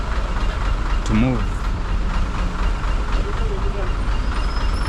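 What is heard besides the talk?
vehicle engine sound changing at a traffic junction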